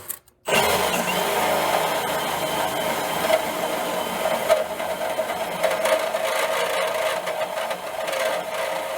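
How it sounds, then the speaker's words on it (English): Drill with a step bit enlarges a hole in the cross member of a Ford Transit van, a loud continuous grinding whine starting abruptly after a brief pause and running steadily up close. "we're going to enlarge it now with our step bit again and get that hole a little larger"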